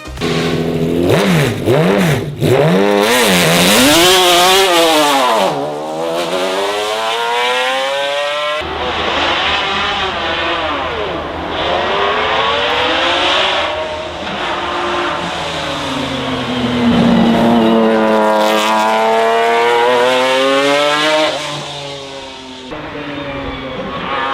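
McLaren F1 GTR long tail with a 6.1-liter V12 in a Need for Speed racing game, engine revving loud and close as it climbs through rising gears with shifts and sweeping pitch changes, continuous for over twenty seconds and without speech.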